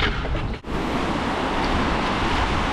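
Strong floodwater current rushing steadily through a flooded area, a dense continuous roar with a brief dip near the start, close and loud with no talk.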